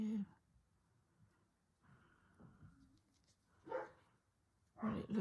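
A dog at home lets out a few short barks and yips in separate bursts, heard between stretches of near silence and faint speech.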